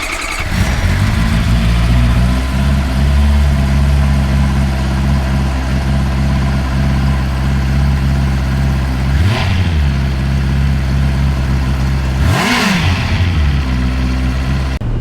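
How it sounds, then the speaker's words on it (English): A Bajaj Pulsar motorcycle engine idles with a steady low thrum, then revs up sharply twice, each rev rising and falling quickly, close and loud. "let's hear the Pulsar and head out for a ride"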